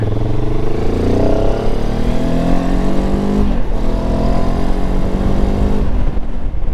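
A Benelli TRK 702 X motorcycle engine revving up loudly and close by, its pitch climbing as it accelerates, with no voices.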